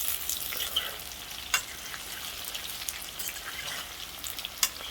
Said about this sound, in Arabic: بدأت تتحمر من تحت هقلبها.